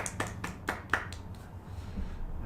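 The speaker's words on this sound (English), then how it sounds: "always applaud our speakers" Sparse, faint applause from a small audience after a speaker's talk at an online-hybrid seminar, a handful of separate claps spaced out over a couple of seconds before fading.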